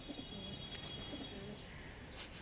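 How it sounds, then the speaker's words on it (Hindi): Pigeons being let out of their loft: soft, repeated low cooing in short pairs, faint and slightly distant, over steady background hiss, with a few brief chirps. "अभी पहले कबूतर छाट के खोल लिए जाएं अपने सारे के सारे।"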